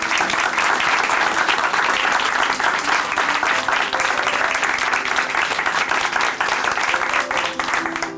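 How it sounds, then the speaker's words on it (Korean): A church congregation at Chuncheon Hanmaeum Church gives a big round of applause after a testimony, the loud, dense clapping continuing unbroken for about eight seconds. "박영수 자매님께 다시 한번 큰 박수 보내드릴게요"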